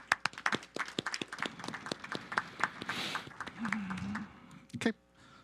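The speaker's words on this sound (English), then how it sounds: "So let's give a round of applause to staff and the community and all the residents who support it." A round of applause at a city council meeting: scattered clapping of a small group, irregular and moderately close, with a voice speaking over part of it.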